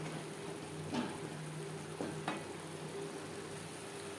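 Spiced potato curry sizzles softly in a pan under a steady hiss, with a few brief scraping strokes of a spoon as it is stirred.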